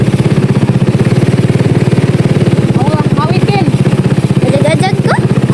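A motorcycle engine runs close by with a steady pulsing throb, while people talk over it.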